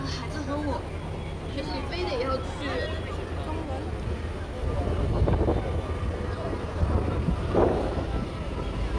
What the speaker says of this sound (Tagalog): So, very windy outside.